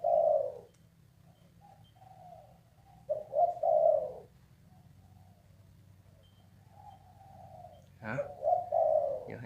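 An old decoy dove gives deep, resonant coos in a few separated phrases, fairly close, against a low steady background hum.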